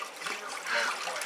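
Water dribbles and trickles from dyed cheesecloth as it is wrung out by hand, a brief faint splashing heard close and alone.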